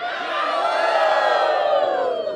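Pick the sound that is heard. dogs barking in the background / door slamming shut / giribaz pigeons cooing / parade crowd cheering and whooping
parade crowd cheering and whooping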